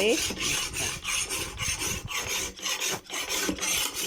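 A metal file rasps over the blade of an old, repaired knife in quick, rhythmic strokes, a close and gritty scraping with short gaps between passes and no talking.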